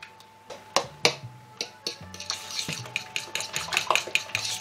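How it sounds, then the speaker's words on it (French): A utensil clinks and scrapes rapidly against a bowl while eggs are beaten into mashed bananas for banana bread, the sharp taps speeding up into a steady, close rhythm. "Là vous battez bien les œufs avec les bananes"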